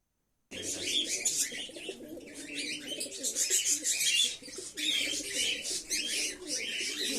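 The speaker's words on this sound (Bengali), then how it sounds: "আপনারা যে পায়রাটা দেখতে পাচ্ছেন, এটা হচ্ছে কি নাজরা পায়রা, গমটুটের গিরিবাজ পায়রা" Nazra Giribaz pigeons, a home-bred gamtut variety fed on wheat, coo and call at close range, with a busy mix of chirps and tweets and occasional wing flutter running steadily throughout.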